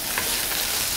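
Garlic fries and gets stirred in a hot pan, giving a loud, dense, continuous sizzle heard up close, with no voices.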